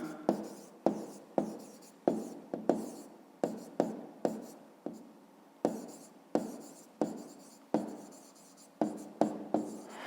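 Chalk or marker strokes writing out a grade-5 math solution for a rectangle's area, a steady run of short scratchy taps and strokes, close and clear with no talking.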